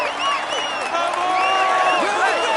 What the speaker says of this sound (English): Applaud him as he deserves.